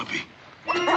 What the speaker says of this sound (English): Come on, puppy. Come on, puppy. Come on here, Shorty